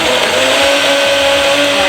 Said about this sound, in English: So we need to put it in a blender now.